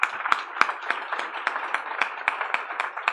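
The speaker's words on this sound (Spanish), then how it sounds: "Un fuerte aplauso para ella." Scattered audience applause after a talk on judicial reform, sharp irregular claps from a modest crowd, moderately close and without voices.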